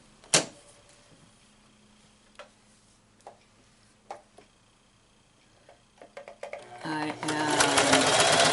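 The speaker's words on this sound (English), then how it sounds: "So let's sew this up here." A sewing machine stitches a fabric face mask: a few sparse ticks at first, then a quick run of needle taps that builds into a loud, steady whirring close by.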